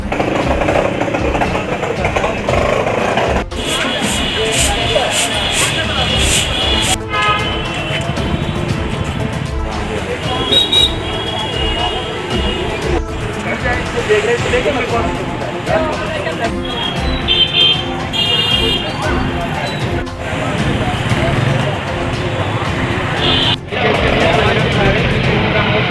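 Street traffic in an Indian town fills the scene with a steady rumble of engines, passing vehicles and occasional horns, while several people talk over the noise throughout.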